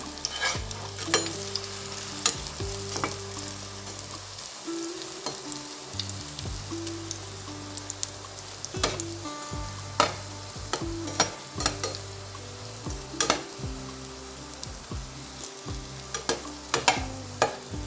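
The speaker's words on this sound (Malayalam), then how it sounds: "നമുക്ക് എണ്ണയിലേക്ക് ഇട്ട് കൊടുക്കാം നമുക്ക് രണ്ട് ഭാഗമൊന്ന് ഫ്രൈ ചെയ്തെടുക്കാം" Banana fritters (pazhampori) deep-frying in hot oil, a steady close sizzle and bubbling with scattered sharp crackles and pops, plus occasional clinks of a utensil against the pan; no talking.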